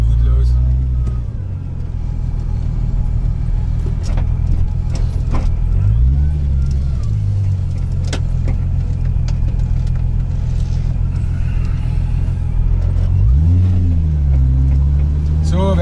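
Turbocharged VW VR6 engine in a car that smokes and smells, running steadily with two rising revs under throttle, a loud close rumble throughout, with someone speaking German over it.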